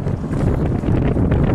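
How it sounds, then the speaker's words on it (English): A strong gust of wind buffets the microphone outdoors, producing loud, rumbling low-end thumps and blustery noise that surge unevenly throughout, with no voices present. "because it's huge gust of wind"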